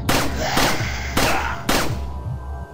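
Several heavy booming gunshots in the video game Resident Evil 4 fire in quick succession, loud and close, each with a rumbling echo trailing off.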